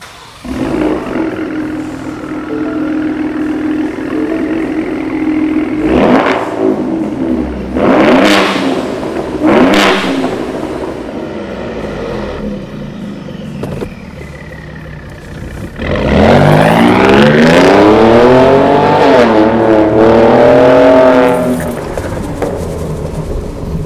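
A Ford F-150 Raptor pickup with a Borla 3-inch stainless steel exhaust, ATAK mufflers and X-pipe revs hard several times in short bursts, then a longer roaring rev climbs and falls, loud and close, with a deep exhaust rumble between.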